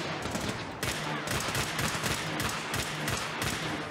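Dense gunfire from a Fallout 4 firefight, a steady roar of rapid shots and bursts overlapping for the whole stretch with thumping impacts, loud and continuous with no talk.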